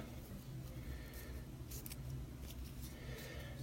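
Quiet, crunchy snips of Spyderco or Victorinox scissors biting through thick paracord, a few uneven cuts as the cord jams between the blades, against a low background hum.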